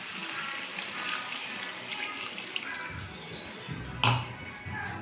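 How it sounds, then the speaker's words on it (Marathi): Hot water is poured into chicken cooking in a pot for a dry chicken dish, a steady close splashing pour with a soft sizzle, ending with a sharp clink of a vessel. "त्यात आता आपण आहे ना थोडंसं गरम पाणी टाकूयात."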